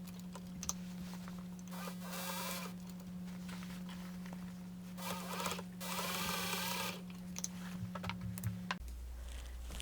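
An electric sewing machine stitching a strap onto an upcycled denim satchel bag, running in a few short whirring bursts over a steady low motor hum, close and fairly quiet.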